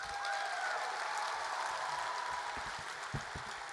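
An audience at a poetry slam applauds a poet with a dense, continuous wash of clapping that holds at an even level throughout.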